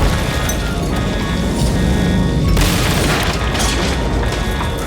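Heavy booming blasts from direct hits on a space station under attack by ships, a sustained rumbling barrage with a sharper burst of explosive impact about halfway through, loud and continuous with no talk.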